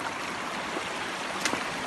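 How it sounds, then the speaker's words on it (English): A small stream running down past a house in Weardale, a steady broadband wash of flowing water with a couple of faint brief splashes, close and continuous with no voices. "the water's now flowing down from my house"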